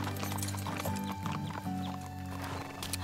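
Horses walk under riders with soft, irregular hoof clip-clops on the ground, heard amid a quiet outdoor background with music-like tones.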